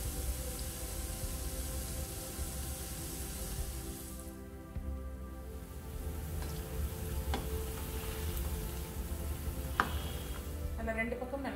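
Potato bonda fry in hot oil in a pan, giving a steady, even sizzling hiss with faint crackles throughout.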